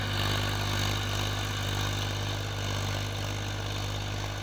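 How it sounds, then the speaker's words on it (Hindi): A Massey Ferguson 241 tractor engine idles steadily with a constant low rumble and hum, unchanging and fairly loud, with no voices. "ट्रैक्टर बिल्कुल भी धुआं ना दिखा रहा है ये, बड़ी कितनी मस्त आवाज़ है"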